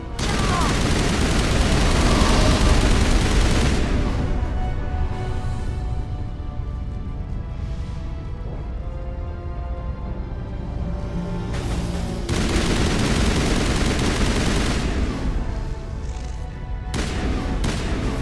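Turret gunfire in the Mass Effect video game, a dense sustained barrage of loud booming shots that swells and eases across the stretch, with a brief lull and renewed bursts, under occasional talk.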